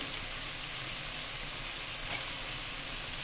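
Ground coriander and cumin fry steadily in a hot pan, a continuous crackling hiss with a brief scrape of stirring partway through.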